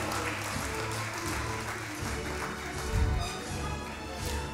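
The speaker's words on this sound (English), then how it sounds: "I request parents to please give them a big round of applause." Parents applauding prize-winning pupils at a primary school annual day, a moderate, steady patter of many hands from a seated crowd, somewhat distant and even, with no one speaking over it.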